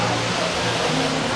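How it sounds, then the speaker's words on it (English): A hotel waterfall in Las Vegas roars nearby as a dense, continuous rush of falling water, loud and unbroken with no speech. "This is one of the waterfalls."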